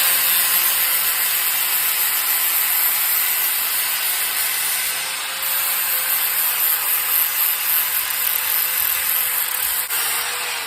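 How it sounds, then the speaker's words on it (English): A continuous harsh, hissing whine of a grinder cleaning up metal on a 1969 Pontiac Firebird Trans Am runs steadily throughout, close and loud with no speech. "I'm just going to clean it up now with a grinder"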